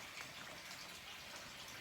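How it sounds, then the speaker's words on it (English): Hot water swilled around inside a fermenter while making a lemon sour gose kit, a faint continuous wash of sloshing liquid with no clear breaks. "I'll get some hot water in here and swill it out"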